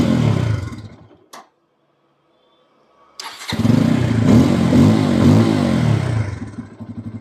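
A Bajaj Pulsar N250 motorcycle engine fires up close by after a short burst and silence, then settles into a steady, throbbing idle with a slight rise in revs, with no talking.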